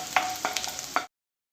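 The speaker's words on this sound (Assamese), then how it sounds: "এতিয়া মই কাটি ৰখা নহৰুখিনি ইয়াত দি অকণমান ৰঙচুৱা হোৱাকৈ ভাজি ল'ম" Chopped garlic fries in chicken oil in a pan for dragon chicken, giving a steady close sizzle broken by a few sharp stirring scrapes and clinks before cutting off after about a second.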